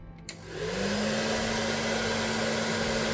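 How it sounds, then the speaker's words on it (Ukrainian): A click, then a hair dryer whirs up and runs with a steady, loud blowing hum. "Включаю фен в перше положення."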